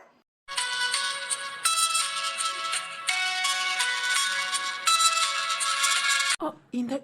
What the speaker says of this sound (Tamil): ரிங் போகுது